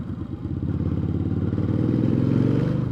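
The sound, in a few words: motorcycle accelerating through gears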